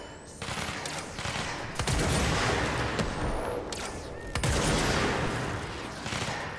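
Bursts of rapid automatic gunfire in the video game Control, loud and close, rattling in dense volleys with brief gaps and sharp cracks between them.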